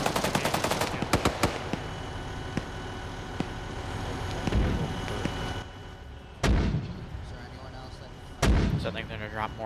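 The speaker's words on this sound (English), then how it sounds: "I think they're going to drop mortars on this position again" Mortar fire in a military war video game, several heavy booming impacts spaced a few seconds apart over a rumbling backdrop, with sharp bursts of gunfire at the start.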